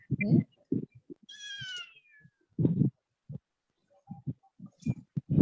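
A house cat meows several times in a quiet room, giving short close cries spaced apart, with one higher and drawn-out meow between them and a few soft faint sounds in the gaps.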